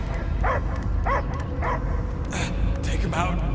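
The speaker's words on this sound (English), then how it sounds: "I hear only barking." Dog barking in the Guardians of the Galaxy video game, several short yipping barks and whimpers over a low rumbling background, with a voice talking alongside.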